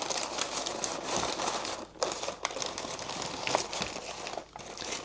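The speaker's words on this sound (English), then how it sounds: "Just going to take our first one and with one hand unwrap." Crinkly wrapping is peeled back by hand from a smoked beef shank that has rested after a pellet grill cook, a steady close rustling and crackling with brief pauses.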